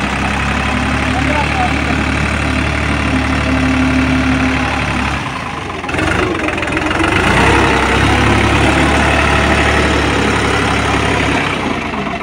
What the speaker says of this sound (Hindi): 1500 आरपीएम पे चल रहा है ट्रैक्टर।